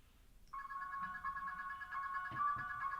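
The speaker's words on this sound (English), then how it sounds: "This is my dad's old ringtone." An old electronic phone ringtone, a sustained bright multi-tone melody starting after a brief pause, fairly loud and close, with a few soft thuds toward the end.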